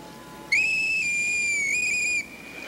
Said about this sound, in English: Now I'll whistle.